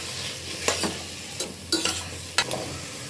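Potatoes and mixed vegetables sizzle in a pan with a steady hiss, broken by several short scraping strokes of stirring, close and fairly quiet.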